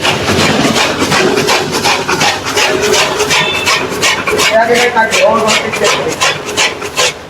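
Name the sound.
S2 model grass and straw cutter machine cutting fodder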